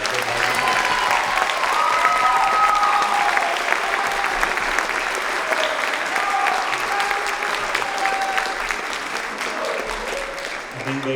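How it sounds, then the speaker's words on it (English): Audience applauding steadily at a wind ensemble's winter concert, a dense, sustained wash of clapping from a full hall that carries on for several seconds, with a few voices murmuring underneath. "So give them a big round of applause."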